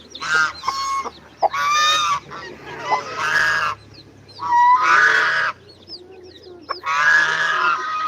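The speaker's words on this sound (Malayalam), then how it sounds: "അപ്പാനെ വിളിക്കുന്ന അരയണം" A swan honks loudly and close up in a series of harsh, nasal calls, about five bursts with short pauses between them, with little else audible.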